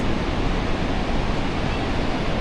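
Pacific Ocean surf and wind on a cold, windy coast, a steady broadband roar of breaking waves with wind buffeting the microphone, loud and continuous without pause.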